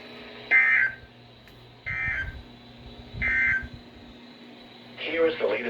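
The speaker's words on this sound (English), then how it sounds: "the National Weather Service has just activated the public warning alarm tone" A National Weather Service weather radio sounds its warning alarm tone in three short, loud, evenly spaced bursts, followed by a busier burst, over a faint background hum.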